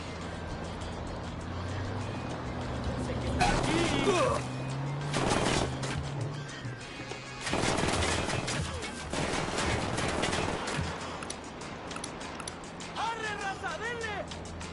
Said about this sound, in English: ¡Siguen abriendo fuego!